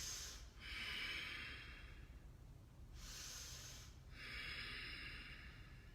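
Slow, deep breathing held in yoga tree pose (Vrikshasana): two long airy inhale-exhale cycles with soft hissing breath, steady and close, no talking.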